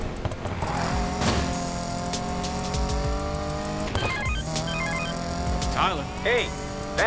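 In Need for Speed Payback, a game car's engine drones and revs with tire squeals, layered under game music and character dialogue.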